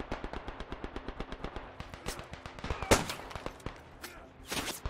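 Rapid, evenly spaced automatic gunfire in the World War I shooter Beyond The Wire, followed by louder scattered shots and blasts, moderately distant and faint overall.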